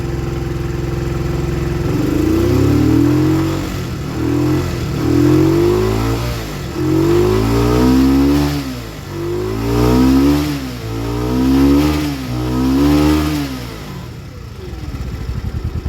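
An old barn-find Honda CD 175 motorcycle engine under repair runs loud and close, its revs rising and falling in repeated swells before dropping back toward idle, with no talking.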